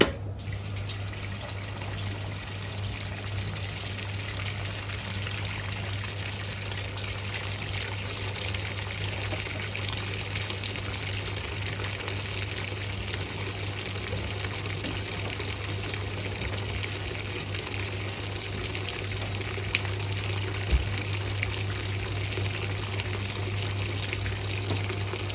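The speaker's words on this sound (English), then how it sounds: "I'm going to put the detergent in as the water fills up" Water pours steadily into a Whirlpool 3RLSQ8033SWD top-loading washing machine on a delicate cycle, a continuous soft trickling rush with a low mechanical hum underneath, moderately faint and unbroken, with no talk.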